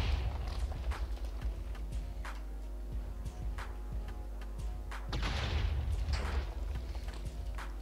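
Cannons fire from an airship in Minecraft on the Steamwar server, a run of heavy booms and rumbling impacts with crackling debris, a bigger blast near the end, no talking.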